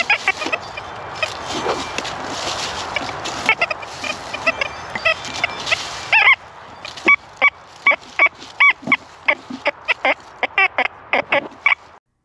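XP Deus II metal detector at a relic site giving forced, blurty tones over big iron: a dense, noisy stretch gives way to a series of short, sharp repeated beeps near and loud, with no talk.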